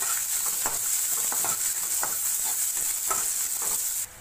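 Finely chopped onion frying with mustard seeds in a pan, a dense continuous sizzle with light crackles and occasional spoon scrapes, close and steady.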